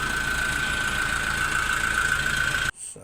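A Kia Bongo 3 diesel engine with faulty injectors and low power idles steadily at close range with a constant droning hum, then cuts off abruptly near the end.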